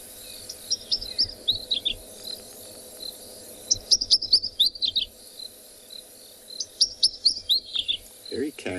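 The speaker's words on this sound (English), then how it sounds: "So I'll try to play an ashy flycatcher for you." An ashy flycatcher call played back outdoors on a South African safari, three bursts of high rapid chirping notes separated by pauses, fairly loud and near, with a brief low rustle at the end.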